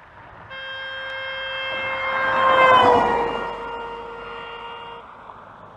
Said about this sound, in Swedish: Vi ska lyssna på ett exempel här på en bil som tutar.